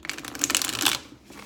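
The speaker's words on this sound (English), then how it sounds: "it's really kind of hard to shuffle these cards" Tarot cards being shuffled by hand in a quick run of papery riffling and flicking for about a second, close and fairly quiet, then trailing off into near silence.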